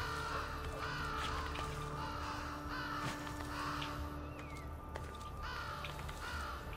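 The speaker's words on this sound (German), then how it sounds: "Die Geier kreisen auch schon. Oder die Raben eher gesagt." Ravens cawing in Assassin's Creed Brotherhood, several harsh calls repeating across the scene over a steady ambient background, moderately loud and fairly close, with no talk over them.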